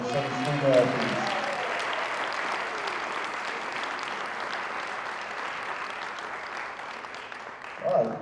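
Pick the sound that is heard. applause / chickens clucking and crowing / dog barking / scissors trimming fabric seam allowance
applause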